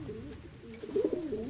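Pigeons cooing in the video game Tom the postgirl, a few soft, low, throaty coos rising over a quiet ambient background.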